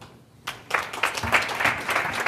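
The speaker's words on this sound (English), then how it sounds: "What are you applauding for?" Audience applause at a NewSpace 2017 space-investment conference after a speaker is introduced: the hall is quiet at first, then dense clapping breaks out and stays steady and fairly loud to the end.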